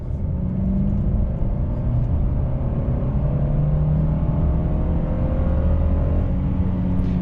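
A 2017 Mercedes E200 W213 accelerates in comfort mode, its steady engine drone rising gradually under a loud continuous road rumble heard from inside the cabin.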